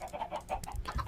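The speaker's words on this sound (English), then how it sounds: "This is actually a chicken farm. We got some nice chickens going here." Minecraft chickens cluck on a chicken farm, giving a run of short, close clucks in a quick uneven rhythm, with no voices.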